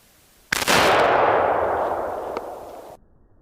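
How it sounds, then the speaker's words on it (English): A Remington 870 12-gauge pump shotgun fires a single rifled slug outdoors: one sharp, loud blast followed by a long rolling echo that fades over about two seconds. "these slugs I'm shooting are rifled slugs."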